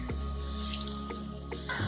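A little water poured into mutton frying with homemade nihari masala and Kashmiri red chilli, a brief close splash and sizzle.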